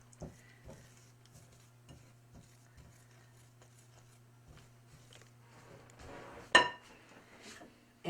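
Dry ingredients with baking soda are stirred in a bowl: soft, sparse scraping ticks at a quiet level over a low hum, then a louder clatter of utensil against bowl.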